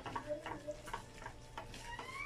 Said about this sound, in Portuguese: E vou dar aqui uma mexidinha.